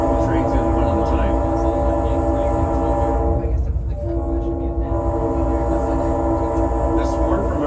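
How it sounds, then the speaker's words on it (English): A train's horn sounds steadily and loudly for several seconds as the engineer warns of a tunnel just ahead, with a brief dip partway through over the constant rumble of the moving train. "This horn from our engineer signals that we are just about to enter the tunnel momentarily."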